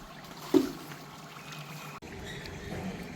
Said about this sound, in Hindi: कितना कितना किलो पानी डाल रहे हो? ये 18 किलो पानी है भाई।